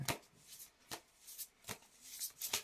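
An oracle card deck is shuffled up close, giving soft crisp riffles and flutters in separate bursts, about six quick shuffles at an uneven pace in a quiet room with no voices.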